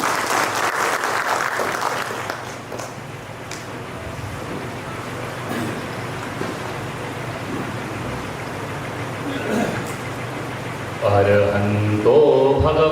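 Sustained applause from an audience welcoming a speaker at a gathering, dense steady clapping for most of the stretch, with a brief voice and some tonal sound entering near the end.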